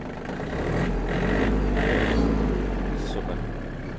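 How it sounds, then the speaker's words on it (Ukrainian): A Yanmar RS-240 mini tractor engine idles steadily with a low, constant rumble, close by and unchanging throughout. "Дамо трішки двигуну прогрітись"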